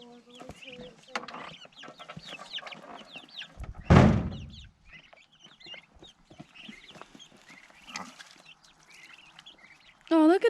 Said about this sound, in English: Oh, look at the turkeys.